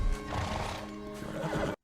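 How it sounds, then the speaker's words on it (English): A horse neighs loudly and close by, a sustained whinny with a few hoof clip-clops beneath it, ending abruptly. "You got the horses on standby too."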